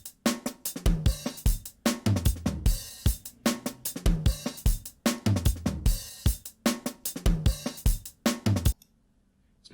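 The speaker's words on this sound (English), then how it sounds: "It introduces distortion into your sound." A compressed, drum-driven music loop set with zero attack and fast release, its punchy hits showing clipped, distorted transients in a steady rhythm before cutting to near silence at the end.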